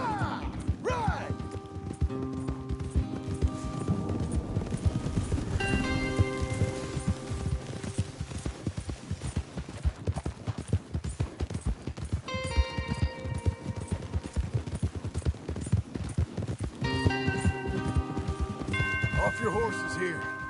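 Horses' hooves clip-clop steadily through a video-game ranch scene as several riders move along, a dense rhythmic patter under music and voices.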